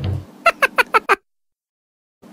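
Five quick, evenly spaced meows, sharp and close, sound together as a cat sound effect in a children's alphabet lesson, followed by silence.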